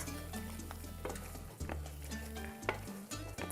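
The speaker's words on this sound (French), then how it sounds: "on va la cuire un bon moment pour que ça ne goûte pas la farine pas cuite" A flour mixture for chicken casserole cooks in a pan, with a soft sizzle under repeated scraping and stirring strokes, close and steady, with no talk.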